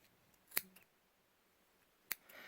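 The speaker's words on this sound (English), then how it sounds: "slide it off of your fork and then go into these loops and then cut them" Scissors snip through the yarn loops of a handmade pom pom slid off a fork, two sharp, close cuts about a second and a half apart in an otherwise quiet room.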